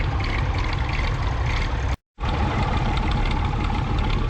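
Old vintage tractor engines idle at the Glamis Extravaganza show in Scotland, a loud steady rumbling drone, broken once by a brief cut in the sound.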